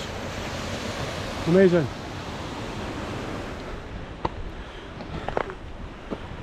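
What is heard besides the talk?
water falling off the mountains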